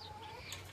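Backyard chickens, including darker red hens, cluck softly inside their pen: faint, quiet calls over a low steady hum, with no talking.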